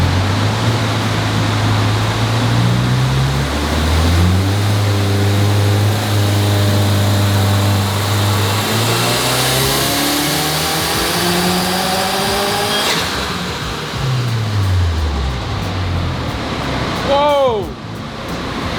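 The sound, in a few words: 2024 Subaru WRX engine revving on dyno with custom tune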